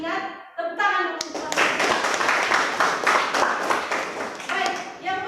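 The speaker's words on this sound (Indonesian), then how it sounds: "Tepuk tangan dulu." Hands clapping together in a steady burst of applause from a room full of people, following a brief spoken phrase.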